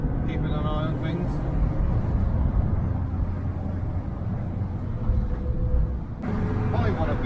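A Volkswagen Split-window Kombi engine drones and revs at road speed, a low rumbling, steady hum heard from inside the cabin with wind noise, while someone speaks over it.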